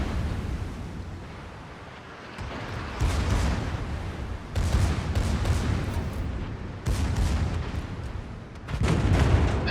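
Naval guns boom in World of Warships, a run of heavy low blasts arriving every couple of seconds, each swelling into a long rumbling roar over constant battle noise, with no talking.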